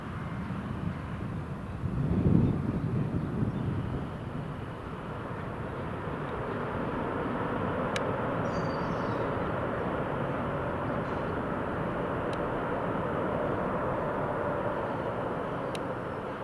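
An Emirates airliner lands at Newcastle Airport in warm weather, a broad steady jet roar rising at the start and holding loud and even through the rest, with a few faint high clicks on top.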